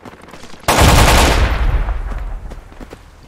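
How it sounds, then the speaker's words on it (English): Sustained automatic gunfire bursts out loudly in a Project Reality military shooter game, a dense sudden volley that gradually tails off over a couple of seconds with scattered shots after. "Taking fire."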